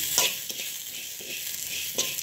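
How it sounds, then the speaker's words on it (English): Onion and tomato frying with roasted ingredients in a pan for kadamba sambar, a steady close hissing sizzle with a few soft stirring scrapes, moderately loud and with no talking. "Again, fry it again. Fry along with the roasted things."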